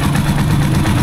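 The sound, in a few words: Honda engine idling with a rattle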